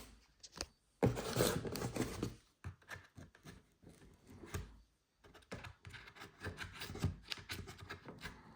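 A blade cuts open the cardboard box of a new PC Specialist Nexa 982 gaming PC, giving close, quiet scraping and rasping strokes in irregular bursts with short pauses between them, with no voices.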